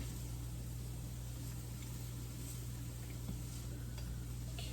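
Brussels sprouts with balsamic vinegar sizzle steadily in a frying pan, a continuous close hiss of frying with faint stirring scrapes and a low steady hum beneath, with no talking.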